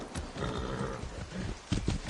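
Horse hooves clomping up a hill in Far Cry 6, a run of heavy, uneven steps close by with a brief animal snort, under a steady rainy background.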